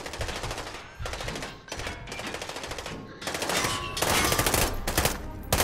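Sustained automatic gunfire from the video game Modern Warfare in realism mode, long rapid bursts of machine-gun fire with brief pauses between them, loud and dense throughout, growing heavier toward the end.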